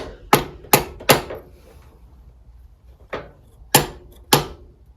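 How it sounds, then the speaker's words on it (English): Metal linkage parts on a Cub Cadet Original clanging while a gearbox oil seal is fitted: six sharp, close knocks, three in quick succession, then a pause and three more. "it's very difficult kind of clanging around these various linkage bits"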